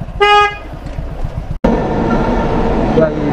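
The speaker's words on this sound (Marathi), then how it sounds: "ट्रेन गई, भयंकर ट्रेन गई" A short horn toots nearby at a railway crossing, followed by a loud continuous rumble and roar of a train rolling past at night, with voices faintly underneath.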